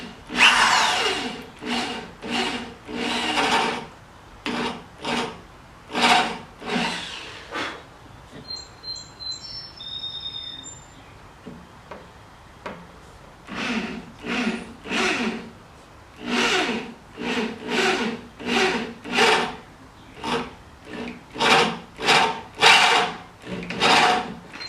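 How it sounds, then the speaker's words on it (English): A drill bores holes into a wooden French door for a strike plate in repeated short bursts of whirring and grinding, with brief pauses between bursts and a few faint chirps midway. "I'm going to drill right here and then drill another one right next to it"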